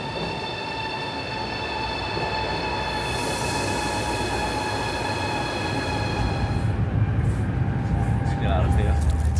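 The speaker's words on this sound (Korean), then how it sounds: "순례단은 이곳 안위성에서 고속철을 타고 절강성 항주로 이동하게 됩니다" A high-speed train rumbles loudly and steadily at a railway station in Anhui, China, with a whining hum and rolling wheel noise, and voices are heard underneath.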